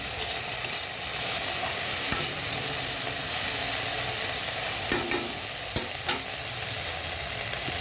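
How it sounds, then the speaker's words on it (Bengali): Food cooking in a pan, ridge gourd with potato and poppy seeds, is stirred with a spatula over a steady sizzle, with intermittent scrapes and taps against the pan, close and continuous. "ঢাকনাটা খুলে আবার একটু নাড়া করলো"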